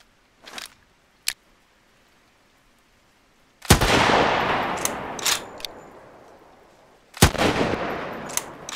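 Rifle fire in the Parasitic Descent survival shooter game, a couple of sharp isolated shots followed by two loud blasts that each ring out with a long decaying roar, close and without talk.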